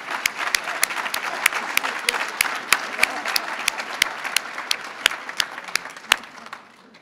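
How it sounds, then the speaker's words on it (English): Applause at the César E. Chávez Excellence Awards for an ill award recipient unable to attend, a crowd clapping steadily with several loud, crisp nearby claps cutting through and tapering slightly toward the end. "So David, tell Jerry we send him a huge applause"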